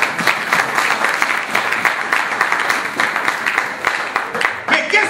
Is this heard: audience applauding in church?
yes